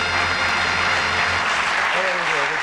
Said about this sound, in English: A nice warm round of applause for the first couple who are going to play with us on Bullseye